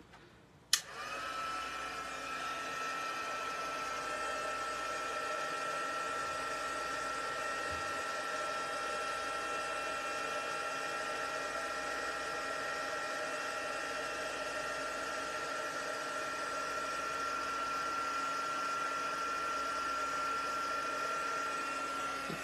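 A handheld heat tool blowing hot air to melt embossing powder on a card, a loud, steady whirring drone running continuously after a sharp click as it switches on, with no talking.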